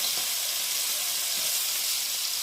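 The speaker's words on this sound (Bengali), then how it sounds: "একে একে মাছগুলোকে দিয়ে ভেজে নেবো তাওয়ার মধ্যে" Small amodi chuno fish frying on a tawa, a soft, steady sizzle and hiss held at low level throughout, close but faint, with no voices.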